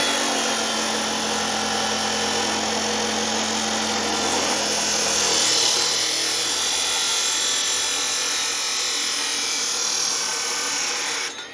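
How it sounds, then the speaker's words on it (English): A power drill grinds steadily through a metal plate, loud and close. A sustained high whine runs throughout, and the motor's lower hum drops away partway through. "Drilled a couple holes in that metal plate that match up to the holes in this bracket."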